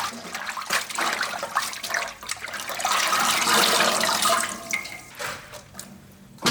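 Beef tripe rinsed under a running kitchen tap for a home-style spicy blood stew, a steady broadband water rush with splashing surges that swells in the middle and tapers near the end, no talk.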